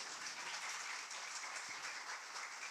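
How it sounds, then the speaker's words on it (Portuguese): A church congregation applauds during a sermon, a soft, distant wash of continuous clapping that holds steady throughout. "Você pode aplaudir o Senhor Jesus?"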